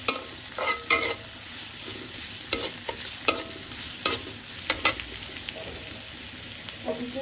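Chili and onion sizzle in a hot pan, a steady frying hiss broken by repeated sharp scraping clicks of a spatula stirring, close and fairly loud with no voices.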